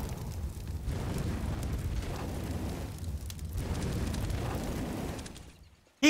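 A molotov incendiary grenade burning in the CS:GO video game, giving a low, rumbling roar of flames that surges in waves and fades out before a sharp final pop; no voices.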